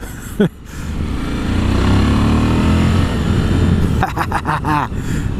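A Suzuki V-Strom 1000 motorcycle rides along a rough road and hits a hole, its steady engine drone close and loud, with a brief jolt early on and short voices near the end.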